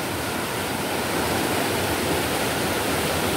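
A river in sudden flash flood surges past, a dense, roaring rush of water that stays loud and steady throughout, with no voices.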